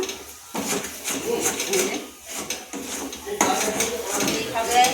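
A thick milk barfi mixture is stirred in a pan for sandesh, with metal spoon scraping and clinking against the pan in irregular bursts, close by.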